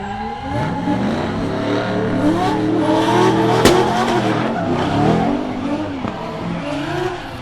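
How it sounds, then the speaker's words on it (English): A 900-horsepower 2J-engined drift car screams through a competition run at Meremere, its engine revving hard in rising and falling sweeps, with tire squeal and a sharp bang midway, loud and close throughout. "That's how you let your 900 horsepower 2J just have it."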